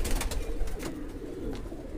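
Madrasi pigeons coo softly in a steady, low murmur of repeated calls, mixed with faint background rustle and no talk.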